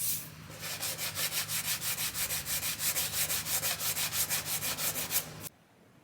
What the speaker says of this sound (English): That's what it looks like sanded down.